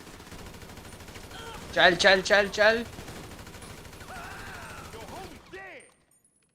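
In GTA 5 gameplay, a rapid burst of automatic gunfire crackles mid-clip amid game noise, with someone speaking briefly.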